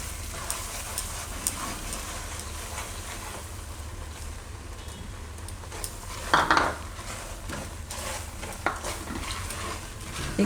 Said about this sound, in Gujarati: એને મિક્સ કરી લઈશું. ગેસ ધીમો જ રાખવાનો.